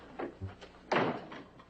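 A door opens and shuts with a couple of soft thuds and a firmer closing knock, indoors in an Old West setting, heard without talking over it.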